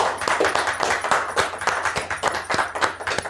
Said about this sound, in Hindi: तो प्लीज़ रेखा मैम, जोरदार तालियों के साथ आप स्वागत कीजिए।